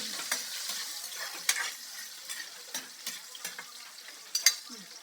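Garlic and onion sautéing in a pan, a quiet continuous sizzle punctuated by sharp clicks and scrapes of a utensil stirring at irregular intervals, close by and with no talking.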